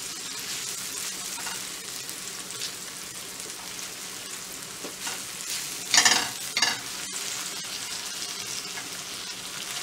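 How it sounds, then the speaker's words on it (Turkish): Ingredients sautéing in olive oil in a pan for a goose dish, a steady dense sizzle with a couple of louder stirring scrapes and pops midway, close and continuous with no talk. "Biraz da böyle kavuruyorum"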